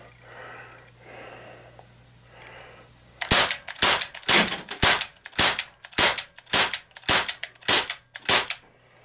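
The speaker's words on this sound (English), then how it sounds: "Press in, safety is off and ready to fire." A Crosman 357 CO2 pellet revolver fires about eight sharp, close pops in an uneven rhythm, each a short hissing crack, after a few seconds of quiet breathing-like background.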